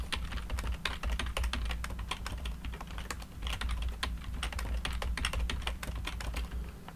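Rapid, steady typing on a computer keyboard while configuring routers in a GNS3 network lab: crisp, close key clicks in an uneven run over a low electrical hum, with no talking.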